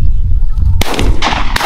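Two loud, close shotgun blasts crack out during a mourning dove hunt, the first sharp boom echoing into rumbling wind noise before a second shot.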